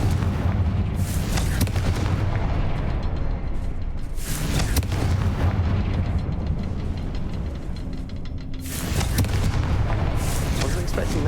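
Heavy booming fire-spell blasts from Confringo in the Hogwarts Legacy video game, several deep explosive bursts rolling over a continuous loud rumble of game sound.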